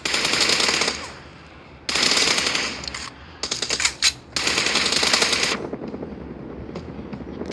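Automatic gunfire in the video game PUBG crackles in several loud, close bursts, some long and sustained, separated by short lulls with faint background noise.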